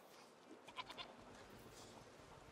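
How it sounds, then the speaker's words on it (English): Goat bleating in the video game A Plague Tale: Requiem, a few short quiet bleats around the middle over a soft steady background. "You're a nice goat, Lucinda."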